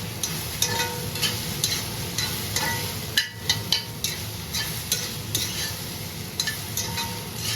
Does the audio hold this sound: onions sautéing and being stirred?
yes